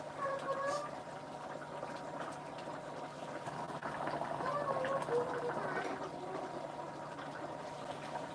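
Coconut milk sauce for Bicol Express simmering in a pot, a steady low bubbling and popping at moderate level, with faint voices in the background.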